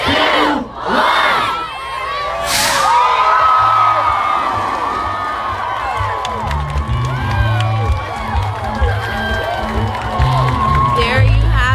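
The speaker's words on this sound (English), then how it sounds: "The crowd is excited." A large crowd at a Huntsville space and rocket center launch of 5,000 model rockets erupts in loud cheering, screaming and whooping, children's shouts among it, sustained and close, with a few scattered claps.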